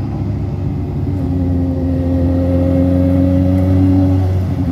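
A modified Alpine car at an outdoor car and motorbike meet gives off a deep, close engine rumble that swells into a sustained rev and holds steady for several seconds.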